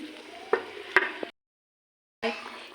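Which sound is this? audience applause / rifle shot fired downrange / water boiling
water boiling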